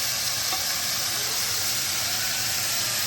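Pieces of beef spread in a single layer searing in a hot frying pan for shaking beef, a steady, dense sizzle and hiss holding constant and fairly loud throughout.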